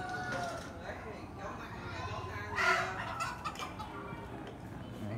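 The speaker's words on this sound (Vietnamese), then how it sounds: "Đấy, gà cảnh này." Ornamental chickens cluck and call nearby at an autumn market, the bursts mixing with people talking and general outdoor background noise.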